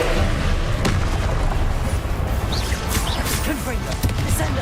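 In Hogwarts Legacy combat, an Expelliarmus disarming spell goes off amid booming, crashing blasts and swishes, a continuous loud barrage with voices over it.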